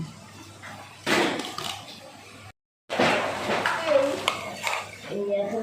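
Washed rice tipped into a pot of hot salted water for khichuri with mung and masoor dal, giving close clattering and splashing bursts with a brief silent break between them.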